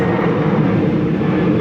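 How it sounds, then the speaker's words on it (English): A loud, steady low roar of an airplane passing overhead, filling the short stretch without other sounds. "excuse the plane going by"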